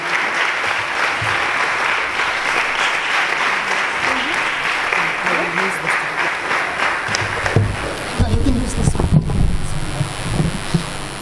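A large crowd applauds steadily, a dense wash of clapping that holds loud, then thins out as scattered voices and movement come through near the end.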